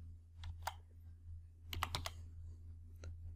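Keys on a computer keyboard are tapped in a few short clusters of crisp clicks, quiet and close, over a steady low electrical hum.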